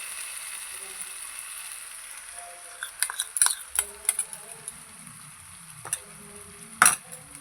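Ground spice paste is stirred and fried in oil with masala for a pangas fish curry: a quiet low hiss at first, then spoon scrapes and clinks against the pan with sizzling, close and intermittent.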